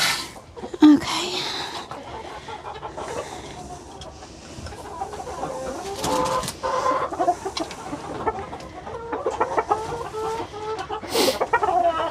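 Roosters in a backyard chicken flock cluck and crow at close range, with a sharp call near the start and scattered calls throughout, while people talk quietly nearby.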